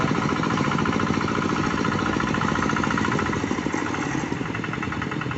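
Hand tractor engine runs near in a rice field with a loud, steady chugging idle and a dense rhythmic mechanical clatter that stays constant throughout.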